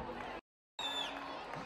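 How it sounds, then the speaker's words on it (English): Audience at a school annual day function cheering and clapping, a busy crowd roar with shouts, cut by a brief dead silence before the noise resumes, with a whistle-like tone sliding down. "Big round of applause for Seema ma'am."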